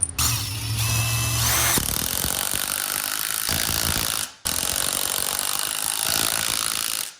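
SKIL PWRCore 20 impact driver driving large bolts, starting with a brief spin, then a long loud rattling hammer run, a short pause, and a second sustained burst of impacts, close and without talk.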